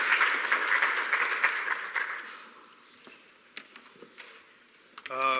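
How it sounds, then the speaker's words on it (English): Applause rises from a symposium audience on climate resilience as a speaker heads to the stage; the clapping is moderate at first, then thins into scattered claps and faint shuffling before a brief loud burst near the end. "A round of applause as Farai makes his way to stage"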